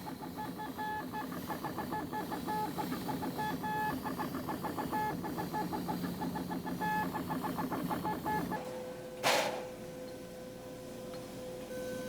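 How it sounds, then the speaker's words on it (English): An inking machine marks failed circuits on semiconductor wafers with black dots, giving a steady rapid mechanical ticking and chattering with a hum; the pattern stops partway, leaving a hum and one short sharp burst of noise. "In the inking machine, the failed circuits are marked with a black dot."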